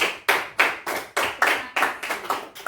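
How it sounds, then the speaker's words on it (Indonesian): Schoolchildren in a class clap in unison, about eight sharp, evenly spaced claps in a steady rhythm, fairly close and with no talking. "Tepuk tangan untuk beliau dulu."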